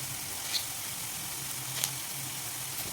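Onions frying in an open pan for bhendi fry, a steady soft sizzle running throughout with a couple of faint clinks, no talking.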